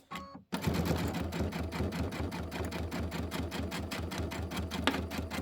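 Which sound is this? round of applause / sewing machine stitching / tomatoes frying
sewing machine stitching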